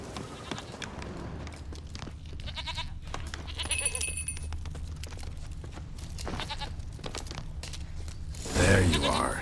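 Goat bleats from The Witcher 3, a few short nasal calls spread across outdoor ambience with light footsteps, with a louder burst near the end.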